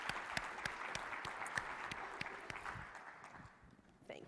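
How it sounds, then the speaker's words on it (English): Audience applause for speakers at a medical conference on new therapeutic approaches, steady dense clapping with a few sharp individual claps standing out, tapering off near the end. "If we can just have another round of applause for all of our speakers today."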